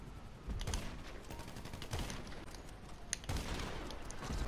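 Rapid gunfire from a shotgun in the GTA V video game, a string of repeated sharp shots at moderate loudness over a dense game background, with no talking.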